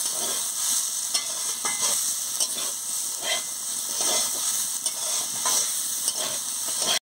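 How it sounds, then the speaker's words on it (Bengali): Pumpkin with chili powder fries in a pan with a steady, dense sizzle and hiss, broken by the scrape of stirring, continuous and close for about seven seconds before stopping abruptly. "কুমড়োটা দিয়ে দিচ্ছি, লঙ্কার গুঁড়োটা দিয়েছি, দিয়ে ভালো করে ভেজে নিচ্ছি"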